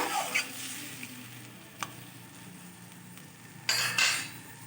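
Cauliflower muri ghonto ingredients with potato and a little added water are stirred in a pan, giving a steady soft sizzle with scraping strokes and a couple of louder clattering bursts near the end.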